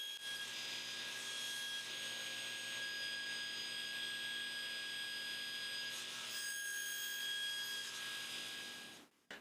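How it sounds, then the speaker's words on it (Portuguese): Table saw blade, raised to trim leftover wood between dovetail tails, runs with a steady high whine and faint woody rubbing for about nine seconds before cutting off abruptly at the end, with no talking. "Eu levanto a lâmina, alinho minha peça e removo cuidadosamente o restante do material dos lados de cada uma das caudas."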